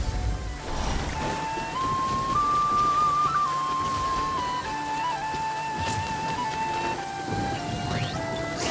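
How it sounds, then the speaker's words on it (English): Rain in the Genshin Impact video game, a soft steady hiss of falling drops with a faint low rumble beneath, while a thin sustained musical tone drifts over the top. "I like the rain."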